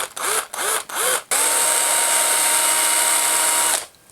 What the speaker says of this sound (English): that's exactly where I'm going to drill this